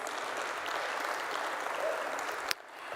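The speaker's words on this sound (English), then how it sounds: "give our panelists a big, big round of applause" Steady applause from a large audience at an African Union conference panel session, an even wash of many hands clapping that cuts off abruptly near the end.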